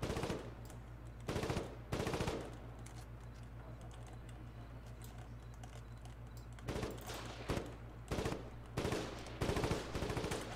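Rapid automatic gunfire in a Star Wars shooter game comes in several short, loud bursts separated by pauses, over a steady low hum with no voices.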